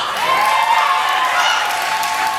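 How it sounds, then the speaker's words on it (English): Audience at a poetry slam applauding and cheering for two poets, a steady dense wash of clapping filling the whole moment with crowd noise mixed in. "Clap it up for both girls"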